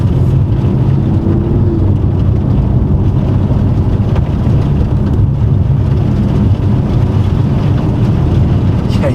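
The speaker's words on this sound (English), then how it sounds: "You can hear all the rocks getting thrown up." Gravel and small rocks pelt the underside of a Porsche 911 Carrera 4S driving in 32-degree winter cold, a loud continuous rumbling roar of tires and road noise with scattered crackling hits.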